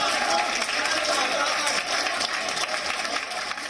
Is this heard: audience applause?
yes